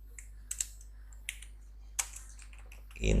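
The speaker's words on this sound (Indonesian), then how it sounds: "saya ketik profil auto" Sparse, crisp keystrokes on a computer keyboard, scattered clicks at uneven intervals over a low steady hum, ending in a sudden louder rumble.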